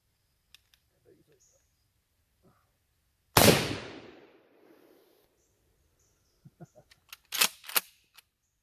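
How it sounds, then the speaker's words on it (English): A 12 gauge shotgun fires a DIY non-lethal silicone slug: one sharp, loud blast with a decaying tail, followed by a few scattered clicks and knocks. "You probably shouldn't shoot either non-lethal toward the head, but I'm going toward the head"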